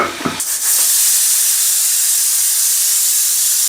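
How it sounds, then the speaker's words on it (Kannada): Steady loud hiss of steam escaping a pressure cooker whistle while mutton biryani cooks, starting after a few brief clicks and holding unbroken and close for several seconds. "ಕುಕ್ಕರ್ನ ಮುಚ್ಚಿ 2 ವಿಶಿಲ್ ಕೂಗಿಸ್ಕೊಳ್ಳಿ."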